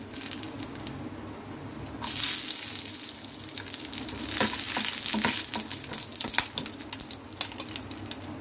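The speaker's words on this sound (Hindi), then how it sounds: "इसमें डालेंगे नारियल" Coconut dropped into hot oil for gobhi kebabs bursts into louder sizzling after a quieter start, with wet crackles, stirring scrapes and sharp pops close by, and no voices.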